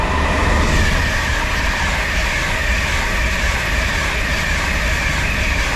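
A Class 91 electric locomotive hauls a train through a station on the Leeds to London King's Cross route, with a steady loud rumble and rolling wheel noise sustained throughout and no voices.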